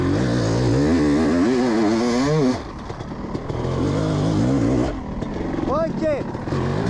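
A 500 CR motorcycle engine revs hard while riding, loud and close, with rising and falling pitch sweeps, a drop in intensity midway, then another quick rev.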